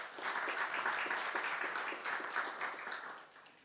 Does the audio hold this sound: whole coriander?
no